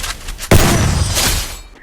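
A loud, sharp burst of gunfire in a shooting video game, a sudden close crack followed by rolling, echoing rumble that fades out.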